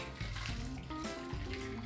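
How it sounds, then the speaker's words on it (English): A Kentucky Mule cocktail mix is poured into a highball glass over ice, a steady close splashing and trickling of liquid with gurgling, rising tones as the glass fills. "and pour in our drink."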